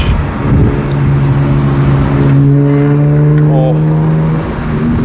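BMW E46 M3 with a loud aftermarket exhaust, valves open, revs up in a deep rising roar that holds steady, loud and close, with a voice speaking over it.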